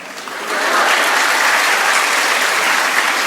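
An audience at a Tamil motivational speech breaks into applause, a dense, steady wash of many hands clapping that swells within the first half second and holds.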